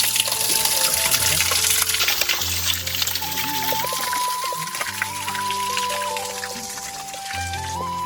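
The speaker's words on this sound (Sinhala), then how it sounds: "අපිට වතුර පුරවා ගන්න පුළුවන්" Water pours and trickles steadily while a bottle fills from a small stream at a Wangedigala campsite in Sri Lanka, close and continuous, with a voice and some tonal background sounds running over it.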